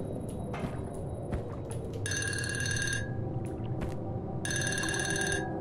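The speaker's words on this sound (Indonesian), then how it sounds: "Telepon dong." A telephone rings inside a horror video game, two bursts of bright electronic bell trilling about a second long each, separated by a pause, over a low murky game ambience and occasional clicks.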